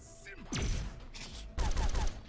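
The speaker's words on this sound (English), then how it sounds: "his laser gun, or his machine is definitely the high caliber. It's tearing through my armor." High-caliber machine gun fire in the video game Sots: The Pit comes in two short, rapid bursts at moderate volume, each with a dull thudding tail.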